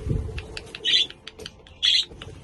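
Two short bursts of high chirping budgie chatter stand out over faint scratching and tapping in a quiet indoor budgie nursery.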